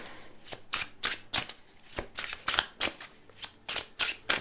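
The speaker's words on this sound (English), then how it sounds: "Let's get some cards out here." Tarot cards are shuffled by hand in a steady run of crisp riffling bursts, close and fairly loud, with short pauses between the sweeps and no talking over them.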